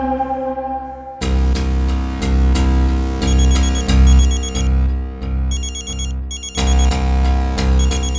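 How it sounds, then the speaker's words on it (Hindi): A phone ringtone plays loudly and up close, a bright electronic melody built from repeating phrases with brief gaps between them. It continues for several seconds and no voices are heard over it. "आपका फोन आ रहा है।"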